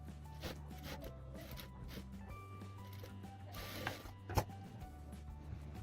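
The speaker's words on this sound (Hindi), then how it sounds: "अब हम ये साइड भी सिलाई लगाएंगे।" A sewing machine runs quietly while stitching the side seams of a blouse, its soft whirring hum and light mechanical clicks continuing steadily, with one sharper tap near the end.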